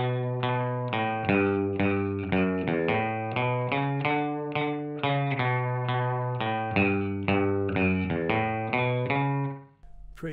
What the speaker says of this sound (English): I'm going through a time space echo delay thing